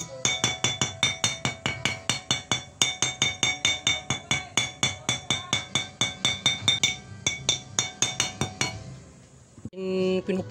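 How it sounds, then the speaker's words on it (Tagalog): A hammer taps rusty metal on a refrigerator compressor oil storage tank to knock loose the flakes, a rapid steady series of sharp metallic clinks close up, stopping near the end. "Pinupok ng martilyo yan para yung mga nakaangat ay matiklap, kaya pinupok ko ng martilyo."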